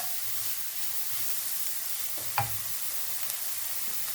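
Small carrot pieces cooking in a pan for corned beef pie, a steady soft sizzle with light stirring and one brief clink partway through, no talking.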